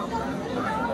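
Dense crowd of pilgrims queuing at a temple, a thick babble of overlapping voices chattering close by, with one person talking over the hubbub.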